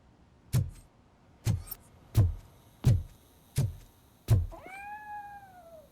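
A cat meows inside the video game Robocop: Rogue City: six short, loud meows at a steady, unhurried pace, followed by a brief higher, drawn-out electronic whine at the end.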